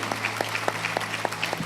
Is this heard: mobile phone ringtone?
no